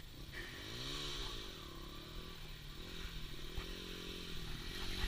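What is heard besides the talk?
slow dirt bike motor revving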